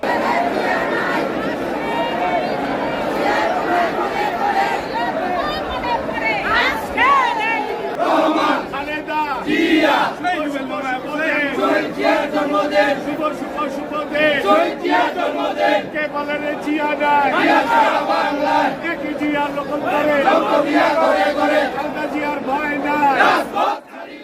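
Party activists chant political slogans in unison at a memorial gathering, a loud, continuous crowd roar with rhythmic shouted phrases rising and falling throughout.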